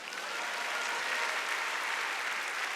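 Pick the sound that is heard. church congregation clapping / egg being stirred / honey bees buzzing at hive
church congregation clapping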